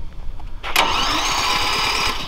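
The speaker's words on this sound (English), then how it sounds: "the engine will start and everything" A small engine on a remote control lawnmower cranks and catches, then settles into a steady, loud running drone close by.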